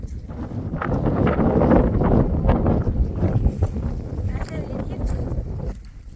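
Wind buffets the microphone at a farm in loud, uneven rumbling gusts, with indistinct voices partly mixed in.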